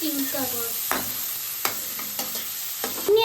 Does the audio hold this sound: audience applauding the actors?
no